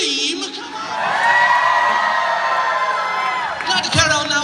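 Concert audience at a tribute show screaming and cheering, a loud sustained wave of high-pitched shrieks and whoops that swells and holds for several seconds before fading as a voice returns.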